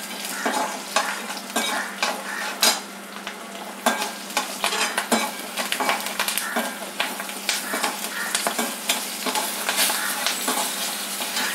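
Green chillies and asafoetida fry in hot oil for a capsicum sambar, a loud continuous sizzle and crackle broken by frequent quick stirring scrapes close by, no talking.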